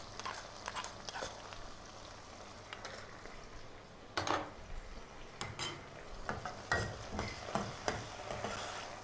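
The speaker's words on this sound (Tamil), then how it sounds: "வெங்காயம் பச்சை மிளகாய் பூண்டு எல்லாம் நல்லா வதங்குது" Onion, green chilli and garlic sauté in a pan for a king fish curry, a soft steady sizzle with scattered clinks and scrapes of a stirring spoon against the pan, fairly quiet and close.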